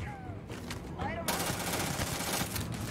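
Rapid automatic weapon fire in the space shooter Starfield, a dense burst of shots starting about a second in and running steadily to the end, loud and close, with game voices underneath.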